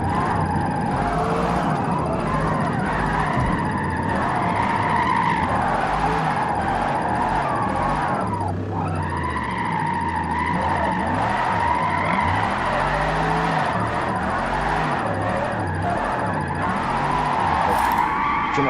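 Forza Motorsport race car drifting in fourth gear, its engine droning steadily and loud the whole time, tyres and revs surging under sustained throttle with no talk over it.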